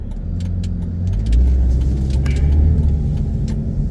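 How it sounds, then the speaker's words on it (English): Passing cars on a road near a trailhead area, a steady close engine and tire rumble swelling as vehicles go by, with light jingling over it and no talk. "The traffic, oh my goodness."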